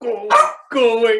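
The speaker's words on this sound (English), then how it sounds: "so sorry about my dog" A dog barks twice in quick succession, loud and close indoors, while a person speaks briefly between the barks.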